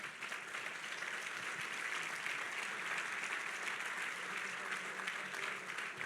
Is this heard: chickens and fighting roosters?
no